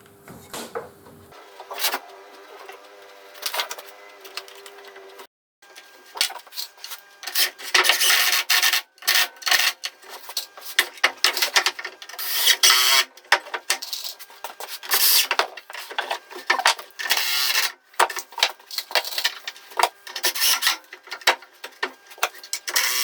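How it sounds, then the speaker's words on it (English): Screws being driven into pine bed boards that have a slight bow, a long run of rasping, grinding bursts with short pauses between them, close and fairly loud, with no talking. "Screw them because they've got a bit of a bow in this"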